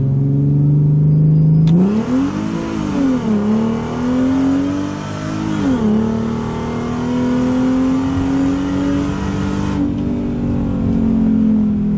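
A Mercedes SLK32 AMG fitted with a Hellcat throttle body accelerates hard on a pull, its engine loud and close, rising in pitch through gear changes with a brief dip before climbing steadily again.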